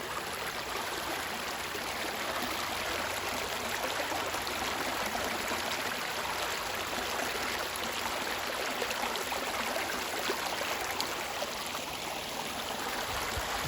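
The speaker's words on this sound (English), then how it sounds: "The sound of water flowing is real soothing." Water runs steadily in a creek in the Kentucky backwoods, a continuous close rushing and babbling with no breaks and no voices.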